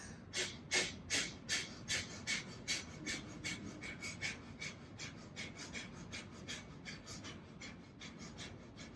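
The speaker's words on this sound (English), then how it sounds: "Kapalabhati, ready, go, inhale." Rapid forceful exhales of Kapalabhati yoga breathing, a steady run of sharp, breathy puffs about twice a second, loud and close at first and gradually softening, with no talking.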